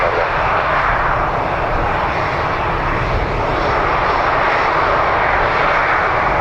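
A fixed-wing aircraft taking off from runway 10 right at Dublin Airport: a loud, steady engine roar that holds at a constant level for several seconds, with no talk over it.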